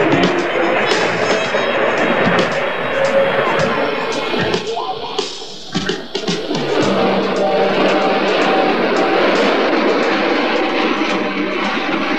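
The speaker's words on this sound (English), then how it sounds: "For the film right after the tourist train gets in." A tourist train rolls into a station with a steady rumbling, clattering wash of wheels and carriages, loud and continuous, with a brief dip midway before the noise resumes.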